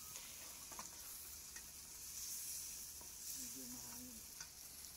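Garlic, onion and tomato sauté in a pan over an outdoor camp-style cooking setup, giving a steady low sizzle with occasional stirring scrapes amid open-air background noise.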